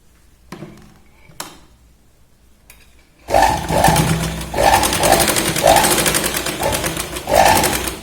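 Sewing machine stitching a shoulder seam on a child's t-shirt: quiet handling and faint clicks at first, then a loud steady motor whir with rhythmic bursts of stitching running to the end.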